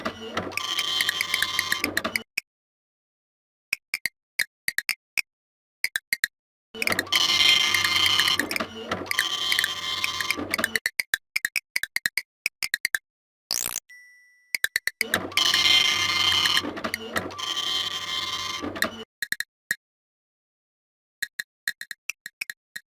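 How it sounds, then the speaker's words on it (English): A cyber printer in the Space Quest VI adventure game printing, several long bursts of mechanical whirring and clattering separated by short electronic ticks and silent gaps, loud and steady throughout. "The cyber printer accepts your cyber file gratefully and begins to print."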